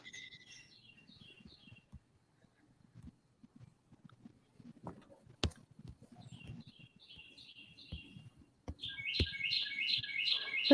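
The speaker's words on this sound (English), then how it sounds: "Listen to that bird just singing" A songbird sings outdoors in short, repeated bright chirping phrases, thin and fairly distant, over quiet low rumble and scattered soft knocks, with a louder run of song near the end.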